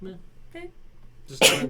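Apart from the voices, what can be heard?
a person sneezing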